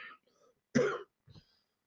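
A man with a lingering cold gives a single short, dry cough, close up, between faint bits of speech.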